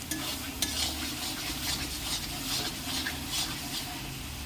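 Mutton being stirred as it fries in oil, a steady broadband sizzle with soft scraping stir strokes running throughout, close and even, no voices.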